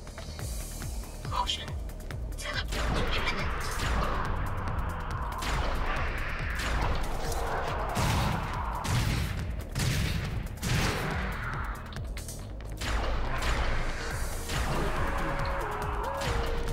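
A sniper rifle in the video game Sanctum fires repeated sharp shots amid crashing game effects over about seventeen seconds, with a voice talking throughout.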